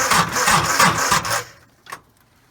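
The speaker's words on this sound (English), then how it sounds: "I'll show you what the thing sounds like when you go to start it before the relay is installed" A tractor starter motor cranks the engine before the starter relay is installed, a loud, rough, rapidly pulsing mechanical churn lasting about a second and a half, then cutting off, followed by a brief faint click.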